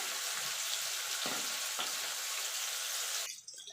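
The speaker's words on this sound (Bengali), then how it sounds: "পনিরগুলো ভাজা হয়ে গেছে।" Paneer pieces fry in hot oil for a dhaba-style paneer masala, a steady close sizzle that suddenly drops away near the end, leaving quieter kitchen sounds.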